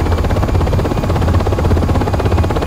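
UH-60M helicopter taking off in the Aerofly FS 4 flight simulator game, giving a loud, steady rotor thrum layered with a continuous turbine whine that holds constant and close throughout, with no voices.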